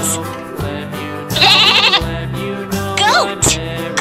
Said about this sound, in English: Goat has horns.